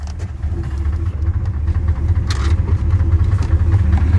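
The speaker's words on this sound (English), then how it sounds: "And whoa truck." A truck drives past on an American road, its heavy low engine rumble steady and fairly loud throughout, with a brief hiss or rattle midway and no talking.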